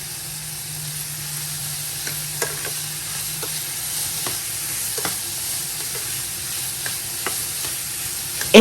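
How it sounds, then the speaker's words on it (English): Red onions and colourful mixed vegetables sizzle steadily in a pan for coconut rice, with a constant frying hiss broken by occasional scrapes and clacks of stirring, and a sharper clatter right at the end. "It's the sizzling for me."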